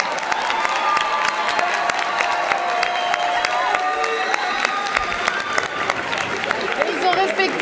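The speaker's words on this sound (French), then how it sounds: "Ok, merci, on les applaudit." An audience at a speaking contest claps warmly and steadily throughout, a dense patter of many hands with a few cheers and voices mixed in.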